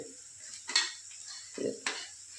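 Boiled potatoes are stirred into a spiced vada pav filling in a pan, giving a few soft scrapes and clinks of a spoon against metal, faint and close, with a light sizzle underneath.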